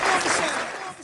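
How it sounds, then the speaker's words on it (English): Brief burst of audience applause at a live poetry show, a steady wash of many hands clapping for about a second. "We need a round of applause."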